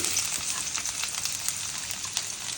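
Chopped garlic and onion frying in mustard oil give off a steady, close hiss with small crackles and a few stirring clicks, alone without talk.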